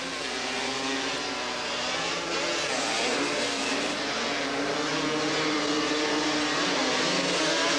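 Engines of racing ATVs at the 1986 AATVA Grand National in Porterville roar continuously in a dense, steady wall of buzzing motor noise, loud and sustained with several machines blending together.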